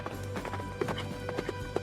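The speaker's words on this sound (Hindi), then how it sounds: "तब घोड़ा वहाँ से भागने लगता है" A horse runs away, its hooves clip-clopping in a quick, uneven patter at moderate distance over a dense background of other sound.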